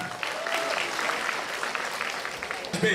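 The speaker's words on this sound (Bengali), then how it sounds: "জোবার জন্য জোরে হাত তালি" An audience applauds as a road safety award is presented at a government event in Udaipur, Tripura. The steady, fairly close clapping lasts the whole moment, with a voice briefly over it near the end.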